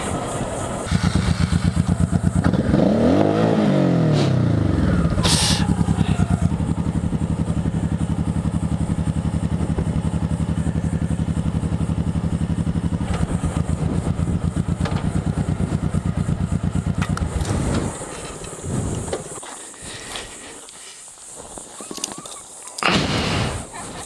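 A motorcycle with floorboards runs loud and close, its engine droning steadily with a rising and falling rev early on, then trailing off and quieting near the end.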